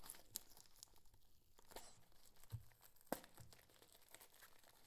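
A plastic package holding a Blackview R60 smartwatch is torn open close by, giving quiet crinkling with a few sharp rips and crunches over about five seconds.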